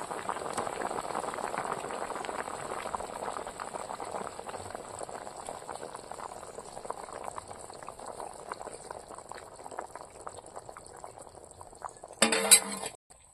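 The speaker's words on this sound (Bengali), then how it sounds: "ঝোলটা ফুটে উঠেছে, এবার মাছগুলো দিয়ে দেবো।" Fish curry gravy bubbles at a steady simmer in a pan, a soft continuous boil, ending in a brief clink of metal or glass near the close.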